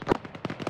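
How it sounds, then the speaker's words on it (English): An RPG or cannon round explodes in the military video game Arma 3, heard as a burst of sharp, crackling blasts in quick succession, loud and close. "Not sure if that was an RPG or a cannon round"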